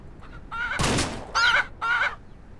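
Chickens cluck and squawk in Ranch Simulator. Several loud, close bursts of clucking and cackling come in quick succession, with a short harsh flapping or scuffling noise between them.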